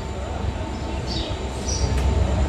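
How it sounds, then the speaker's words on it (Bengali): A local train in Assam slowly pulls out of a station after a long halt, giving a steady low rumble with faint squeals of wheels and metal, continuous and fairly close. "এই জাস্ট ট্রেন থেকে ছাড়লো, স্লো মোশনভাবে ছেড়ে যাচ্ছে তার স্টপেজে।"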